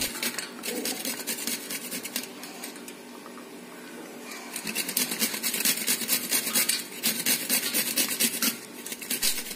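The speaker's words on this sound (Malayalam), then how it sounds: "ഈ ക്ലീനാക്കി വെച്ചേക്കുന്ന ഈ ചക്കക്കുരു നമുക്കൊരു ഗ്രേറ്റർ എടുത്തിട്ട് നല്ലപോലെ ഒന്ന് ഗ്രേറ്റ് ചെയ്തെടുക്കാം" Cleaned jackfruit seeds being grated on a kitchen grater: repeated rough rasping strokes, close and fairly loud, with a quieter stretch in the middle before the scraping picks up again, no talk.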